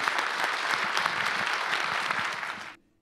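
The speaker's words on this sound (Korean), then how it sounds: "산부인과 의사가 발언을 시작하자 윤석열 대통령이 박수를 청합니다." Audience at a policy town hall on medical reform bursting into dense, even applause for an obstetrician after the president's prompt, steady for nearly three seconds before cutting off abruptly.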